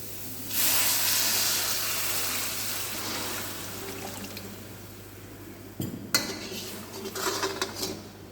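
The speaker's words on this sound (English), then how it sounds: "Now we'll add vegetable stock to it" Vegetable stock poured into a pot of Manchow soup with vegetables and soy sauce, a steady hissing splash running for several seconds, then a few sharp clinks of a pan and utensil near the end.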